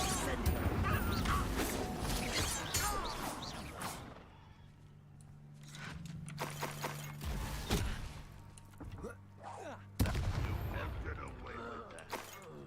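Spells are cast in Hogwarts Legacy in a busy stretch of game audio with whooshing bursts and impacts, while a voice talks over parts of it.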